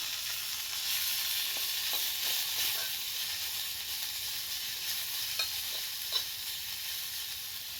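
Mallum greens fry in coconut oil in a hot pan, sizzling and hissing steadily throughout, with occasional light scrapes from stirring.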